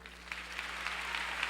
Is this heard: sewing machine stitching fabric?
no